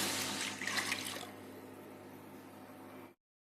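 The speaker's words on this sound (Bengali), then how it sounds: "এখন আমরা জুসটা ঢেলে দিচ্ছি।" ABC juice poured for agar agar pudding, a brief liquid splash and stream for about three seconds that fades to a soft steady trickle before cutting to silence.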